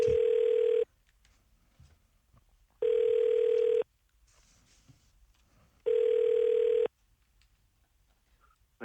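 A telephone ringback tone sounds as a live radio show places a phone call, with three loud, steady beeps, each about a second long and separated by silent gaps, and no talking.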